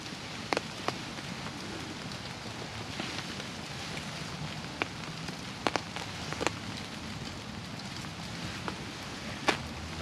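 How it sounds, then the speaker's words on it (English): Heavy rain falls on soaked woods in a steady, soft wash, with occasional louder drops tapping nearby surfaces scattered throughout. "Still raining down pretty hard. This entire woods is soaked."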